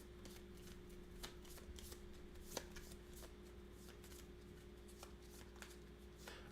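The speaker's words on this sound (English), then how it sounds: "Shuffling." Playing cards being shuffled for the Undaunted Stalingrad board game, a quiet, steady riffling run of soft crisp flutters with small sharp ticks scattered throughout, alone with a faint low hum beneath.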